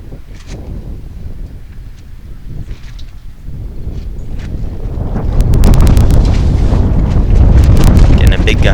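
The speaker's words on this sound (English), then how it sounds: "Getting a big gust of wind here." At an outdoor curling match, wind buffets the microphone, starting as a low steady rumble and swelling into a loud, roaring gust during the second half, with faint sharp knocks near the end.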